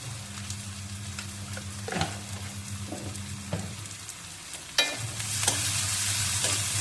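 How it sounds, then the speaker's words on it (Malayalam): Onions sautéed with masala and salt in a pan for paneer bhujia, a continuous sizzle broken by a few sharp scrapes and clinks of the spoon, with a low steady hum underneath. "ബ്രൗൺ കളർ ആവുന്ന വരെ നമുക്ക് സവാള വഴച്ചെടുക്കാം"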